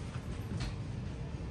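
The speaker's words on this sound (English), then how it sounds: "This is an old train" An old passenger train in Helsinki rumbles steadily with a low, continuous rolling drone and faint rattles, heard from inside a carriage with no talking.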